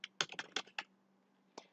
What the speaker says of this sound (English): So just click G Suite account and key in your password.